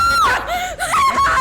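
A woman screams loudly and close in a Hindi crime drama scene, one sustained cry whose pitch wavers and breaks.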